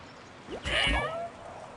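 A single short cat meow from Genshin Impact, clear and fairly close, rising then falling over about half a second against quiet game background.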